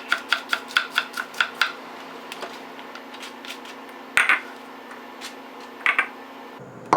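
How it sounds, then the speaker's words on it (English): A knife slices a red Belgian endive on a cutting board in a quick run of about eight crisp, even chops, then a few scattered, sharper cuts with quiet gaps between them. "I'm just going to slice it up"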